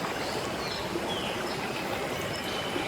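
Water gurgling and trickling through Indonesian forest, a steady soft wash of stream noise with faint high bird-like chirps above it, no voices.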